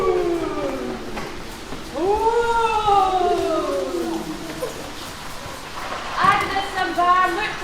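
A voice imitates howling wind with long rising and falling wails, repeated a few times, close and fairly loud, performed as part of a puppet pageant story.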